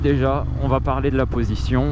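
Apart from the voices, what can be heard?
No everyday noise stands out behind the speech.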